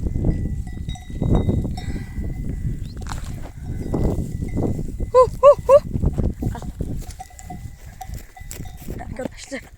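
Several sheep bleating close by in short repeated calls, with low rumbling handling noise and livestock shuffling around them.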